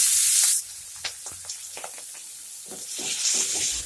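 Bay leaf, dried chilli, cumin and onion hit hot oil for a sour-yogurt fish head curry. A loud burst of sizzling comes first, then scattered clinks and scrapes of stirring before the hiss swells again.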